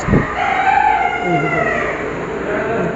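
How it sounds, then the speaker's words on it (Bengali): Chickens at a poultry shop in Chennai crow loudly and cluck close by, one drawn-out crow dominating over the bustle of the shop while people talk. "দেশি মুরগি পোলট্রি আছে"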